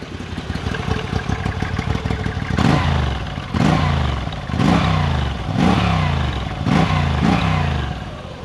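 A Moto Guzzi V85TT motorcycle engine idles with a mechanical clatter and then revs hard in about five close, loud throttle bursts, each winding up and falling back.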